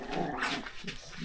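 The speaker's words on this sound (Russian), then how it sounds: "Кушают косточку вкусную прямо и рычат." Dogs chewing a bone growl close up, a low rumbling snarl running continuously with rough, uneven texture and no voices over it.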